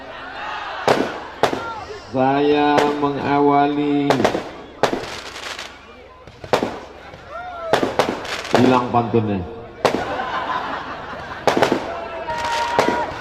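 Firecrackers bang sharply and repeatedly outdoors during an Islamic sermon at a Maulid Nabi and Hari Santri gathering, loud close cracks interrupting a preacher talking over a microphone, with crowd noise between bursts.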